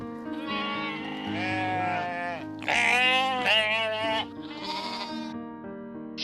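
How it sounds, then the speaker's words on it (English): A sheep bleating several times in a row, loud, close and wavering, with long drawn-out calls and no other sound around them. "Next one is sheep."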